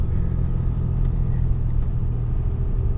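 Ram pickup truck on 35-inch tires, towing a load, rolling along a dirt road at night, with a steady low engine and road rumble filling the cabin, close and continuous, without talk.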